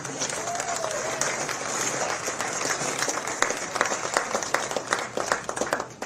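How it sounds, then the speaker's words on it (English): Audience applause for the women's finalists at the North & South Amateur golf championship ceremony at Pinehurst No. 2, a steady outdoor patter of many hands at moderate volume with some crowd noise mixed in. "Another round of applause for the ladies, please."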